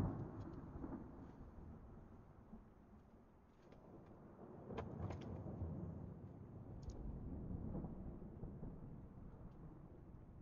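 A video-game thunderstorm rumbles low and continuously, with rolling swells of thunder and a few crackling edges, kept fairly quiet and without voices.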